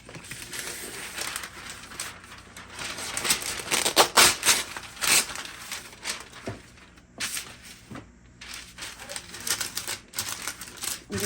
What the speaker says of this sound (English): On top of the cookie sheet, I'll be adding parchment paper.